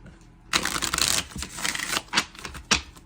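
A deck of cards being shuffled up close, a long riffling burst followed by a few shorter snaps and flutters as the cards settle.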